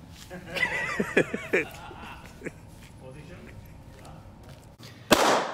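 Sharp gunshot cracks during a shooting outing in Slovakia: a quick cluster of four or five shots early on, another a second later, then a louder, broader blast near the end, all amid background chatter.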